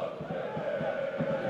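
About fifty Borac Čačak supporters cheer and chant from the north stand at a Serbian Cup football match, a steady distant crowd roar with rhythmic pulses, heard faintly over the ground.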